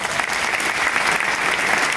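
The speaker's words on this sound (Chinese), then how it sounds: "那你们掌声一下" An audience claps steadily through an indoor business-networking talk, with the applause sounding dense and sustained and no voices rising above it.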